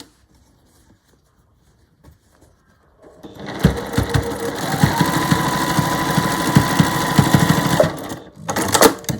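A sewing machine stitches through fabric bunting flags, running steadily and fairly loud in one continuous burst after a quiet start, then a brief second burst near the end.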